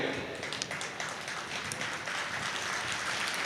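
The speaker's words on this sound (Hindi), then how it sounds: "15-20 लोगों ने ताली बजाई है" Modest clapping from a small audience at a Hindi comedic poetry performance, with only a handful of people joining in. The scattered, fairly quiet claps run under some background voice.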